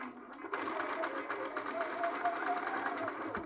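Sewing machine stitching a fabric seam at a quarter-inch allowance, starting abruptly after a brief quiet moment and then running steadily with a close, even rhythmic whir.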